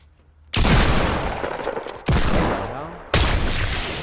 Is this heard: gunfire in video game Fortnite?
yes